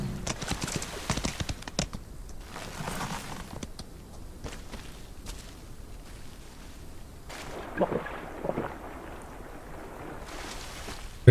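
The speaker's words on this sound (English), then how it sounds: "Walking through water refills your horse." A horse wades through water in the Old West video game Outlaws of the Old West, with irregular clip-clop hoof splashes, moderately close, over steady wind-like ambience and no talk.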